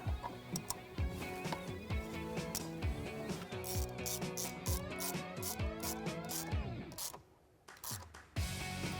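A ratchet wrench tightening a bolt on a RedRock cold air intake for a 2019-2022 Silverado or Sierra 1500 V8, rapid close metallic clicking in repeated strokes with a short pause near the end.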